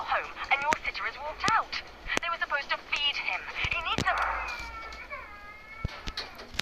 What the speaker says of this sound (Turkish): Bebek ağlama sesi.